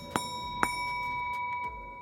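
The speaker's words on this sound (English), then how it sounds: "Let's see if it rings like a bell." A metal Edson single upright sheave is struck twice, each strike giving a sharp, clear bell-like ring that sustains with steady overtones, then fades with a few faint taps.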